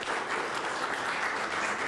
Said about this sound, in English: can we give your coaches a round of applause